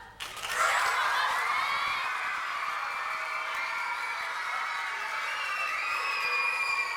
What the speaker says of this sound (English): Come on, cheer really loud.